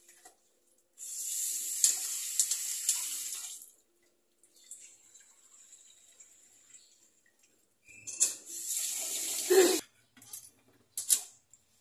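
Water runs from a tap in a home bathroom while a mother bathes, hissing in a sustained gush that stops, trickles faintly, then resumes with splashes and brief spurts.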